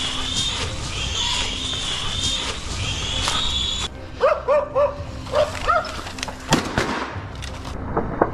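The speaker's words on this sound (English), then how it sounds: "Yet the dogs weren't done. They cornered the last wild boar." Hunting dogs bark in short repeated bursts at a cornered wild boar, the barks coming in a quick cluster after a stretch of steady outdoor noise, with a sharp loud crack near the end.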